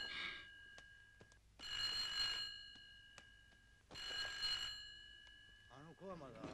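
Bursts of an old-style telephone bell ring in a house, two long rings separated by pauses, fairly clear, with a voice starting to speak at the end.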